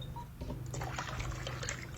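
Water is poured into a thick ground green paste while cooking, making a steady, close liquid rush that builds and holds for a couple of seconds with no talk.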